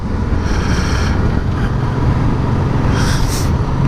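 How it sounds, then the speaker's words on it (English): Heavy wind roars around a Honda NT700 motorbike on a ride across the North Yorkshire Moors, a loud, constant rushing buffet with a low engine drone beneath it. "the wind probably actually doesn't seem as bad as it did on the way up"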